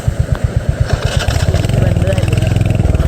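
A motorcycle that has stalled in deep floodwater on a flooded road between Vasai and Virar, its engine chugging in a loud, steady low thump and then settling into a fast, rough idle, close by, with voices talking over it.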